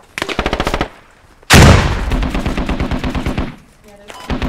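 Grenade launcher explosions in the video game Squad, a loud blast followed by a rapid run of booming detonations and gunfire, preceded by a burst of automatic fire.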